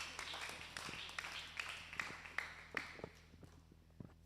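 A seminar audience gives a round of applause, sparse individual claps ringing out at uneven intervals, fairly faint and thinning toward the end, with a low steady hum underneath.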